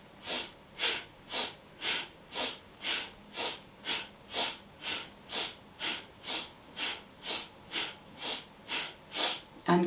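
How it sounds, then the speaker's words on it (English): Rhythmic, even breaths during a yoga breathing exercise, about twenty soft airy cycles at a steady pace, close and quiet, with no talking. "Breathing in to begin."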